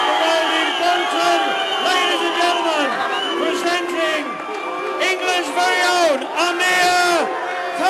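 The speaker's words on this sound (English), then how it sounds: "Tumultuous reception from Amir Khan in front of his home fans." Home fans roar for boxer Amir Khan as he arrives at the Khan vs Barrera weigh-in, a dense, continuous crowd din with shouts and whoops throughout, loud and close.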